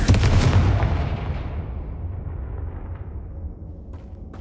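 A Confringo blasting spell goes off in the Hogwarts Legacy video game, a loud booming explosion at the start that rumbles and then fades away over several seconds, with no speech.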